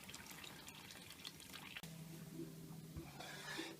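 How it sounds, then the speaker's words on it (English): Water draining out of central heating pipes, a faint trickling and dripping flow close by with a few small clunks. "I think all the waters in the pipes at least will be flowing out here."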